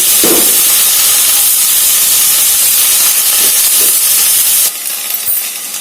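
Cluster beans tossed in with browned onions in hot oil, a loud, dense, continuous frying hiss close by that thins out near the end.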